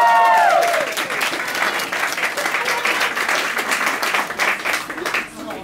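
Audience applause at a live musical theatre show at Dress Circle fills the room with dense, steady clapping that starts loud and gradually thins, with a short sung or spoken tone fading at the start.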